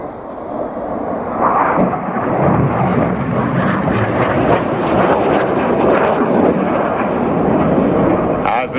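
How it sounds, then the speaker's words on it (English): Red Arrows display jets, seven aircraft climbing at an air show at Cosford, give a loud, continuous broadband roar that builds and holds steady throughout, with wind buffeting the microphone. "Up go the 7 aircraft, Red 6 and 7 staying low."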